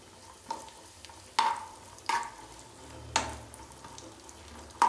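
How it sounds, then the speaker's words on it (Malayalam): Raisins go into a pan of frying nuts for milk upma, with a handful of sharp spoon clinks against the pan over a quiet background sizzle. "ഇനി ഇതിലേക്ക് നമുക്ക് മുന്തിരിയും കൂടെ ഇട്ട് കൊടുക്കാം."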